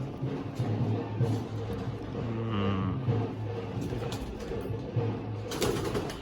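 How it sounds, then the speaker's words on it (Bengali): Pigeons coo in a loft, their low repeated calls running steadily through the clip beneath scattered background noise and occasional faint voices. "এই একটা চোখের পায়রা"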